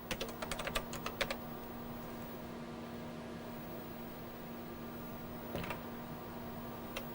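Password keys tapped on an old computer keyboard during a Tandy XENIX install, heard as a quick burst of close clicks, a pause of steady machine hum and fan noise, then a few more isolated keystrokes.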